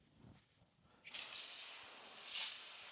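IK foam sprayer switching on abruptly into a steady, broadband spraying hiss that swells slightly before easing, close and loud after a brief quiet start.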